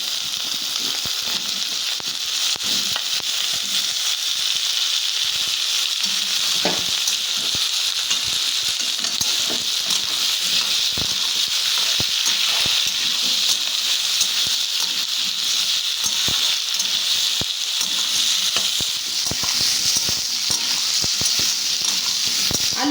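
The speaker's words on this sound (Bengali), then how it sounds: "আর পেঁয়াজটা খুব ভালো করে ভাজা হয়ে গেছে" Chopped onions and potatoes fry in hot oil in a pan, a loud, continuous sizzle with scattered crackles and occasional stirring scrapes, close and without talking.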